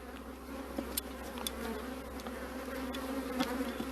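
Honeybees hum steadily at an open hive in apiary 2, hive 6, a dense close drone with scattered clicks and handling knocks, no talking.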